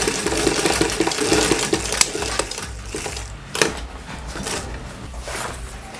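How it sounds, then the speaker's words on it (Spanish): A sewing machine stitches fabric for a school pencil case, running in fast rattling bursts with short pauses between seams, close and clear with no talking. "Y seguimos cosiendo."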